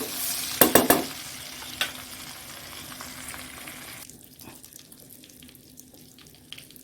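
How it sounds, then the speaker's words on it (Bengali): Egg and other food fry in oil in a pan at home, giving a hiss and sizzle with a few sharp clattering knocks near the start before the sound drops to a quieter, sparse crackle. "এটা ভাজা করে নিই"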